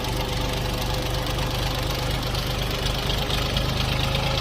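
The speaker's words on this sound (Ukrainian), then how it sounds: "трьохциліндровий КМовський двигун." A Bulat 244 mini tractor's three-cylinder engine idles steadily up close, a constant low knocking chug with no pauses.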